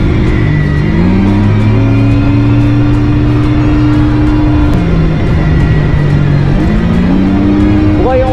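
A Yamaha Augur motorcycle rides along a wet, cold, foggy mountain road, its engine humming steadily and shifting pitch as it speeds up and eases off, under constant loud wind rush.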